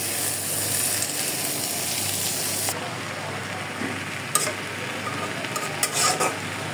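Greens tossed into frying dried fish, a loud continuous sizzle that drops suddenly partway through, followed by spatula scrapes and clinks against the pan.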